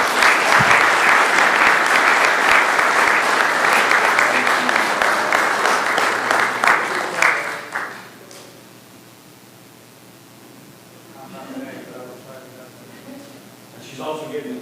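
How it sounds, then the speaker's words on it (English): Loud audience applause for Miss Barbara at a chapter leadership workshop, dense steady clapping for about eight seconds before fading out into quiet room sound with faint talk. "So will you give her a round of applause, please?"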